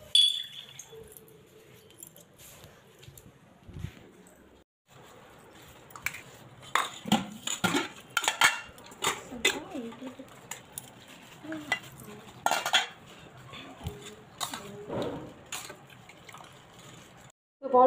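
Dirty household containers clattering as they are handled and rinsed, with repeated clinks of dishes, pots and cutlery in irregular bursts, water sounds and a voice speaking intermittently nearby.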